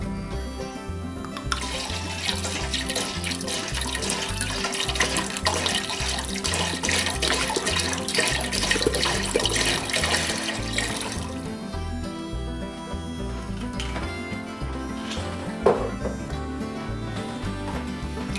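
Alcohol is poured into a pot of Boilo, the coal region holiday drink, giving a loud, continuous splashing and trickling pour for most of the clip before it eases off near the end.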